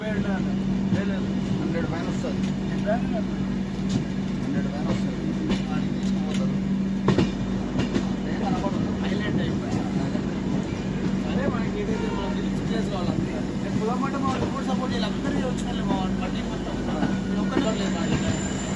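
A passenger train runs with extra banking engines coupled at the back on the climb toward Castle Rock, giving a steady, loud rumble of wheels and carriages with a constant engine drone throughout, and voices talk over it.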